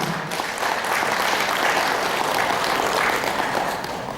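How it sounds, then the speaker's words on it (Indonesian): An audience of staff at an opening ceremony claps steadily and loudly in a sustained, even round of applause with no talk. "marilah kita berikan tepuk tangan yang meriah untuk kita semua"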